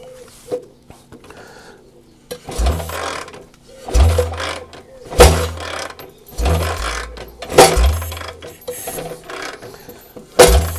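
Heavy mechanical clonks repeat roughly every second or so as a BSA motorcycle primary drive is spun, each a sharp knock with a low thump, over a faint steady background hum.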